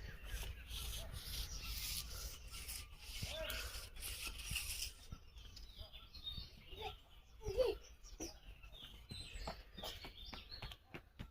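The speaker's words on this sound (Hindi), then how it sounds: "चिड़िया अपने गाना गा रही हैं।" Morning birdsong outdoors in sunny, calm weather, heard as scattered short chirps and tweets throughout, with a brushing or rubbing noise dominating the first half and softer bird calls standing out afterward.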